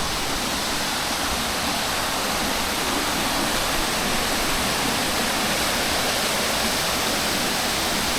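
Fairlawn waterfall at Upcot, Sri Lanka, roars as a steady broadband rush of falling water. It is close and loud, holds unchanged from start to end, and no voices are heard.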